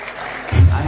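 Applause breaks out from an audience in a theatre as a contest winner is announced, starting about halfway through and swelling loud.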